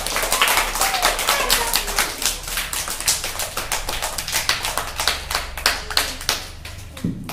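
A class of village schoolchildren claps in a quick run of uneven, overlapping claps that goes on for several seconds, fairly loud and close.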